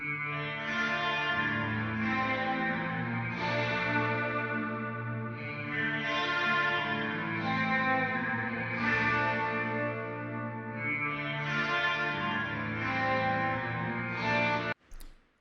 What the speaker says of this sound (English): the more you turn this knob towards the chorus, the more modulated it becomes